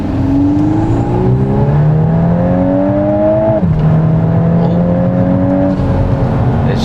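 Volkswagen MK8 Golf R with an aftermarket intake and stage 1 tune pulling hard from inside the cabin, engine tone climbing steadily then dropping sharply at a gear shift before rising again, loud and continuous with no talk.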